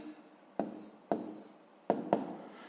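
A pen writes by hand on paper while working a sixth-grade maths exercise, heard as four short close scratchy strokes, the last two in quick succession, over a quiet background.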